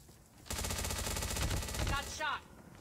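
Automatic gunfire from the mobile game Call of Duty Mobile comes as a fast, steady burst of shots at moderate volume, followed by a brief tail of clicks and a short voice.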